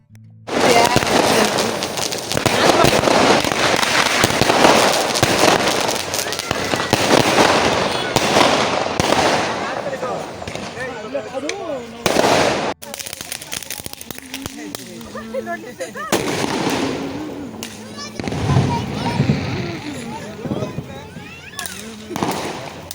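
Small garlic firecrackers burst during Diwali in a rapid, crackling string, loud and dense at first, then thinning out into scattered pops as voices talk.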